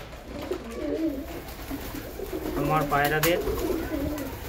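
Pigeons coo in soft, low, throaty bursts close by, mixed with muffled background noise and a person's voice.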